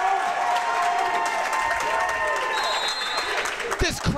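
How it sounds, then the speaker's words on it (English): Crowd at a college basketball game, National Park College at Champion Christian College, cheering and applauding loudly and continuously while an announcer talks over the noise. "This crowd is going crazy."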